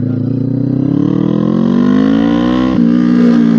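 A 2017 Kawasaki ER-6N motorcycle with an SC Project exhaust accelerates hard in first gear, its loud, close engine note climbing steadily before a quick dip as the gear changes, then pulling on.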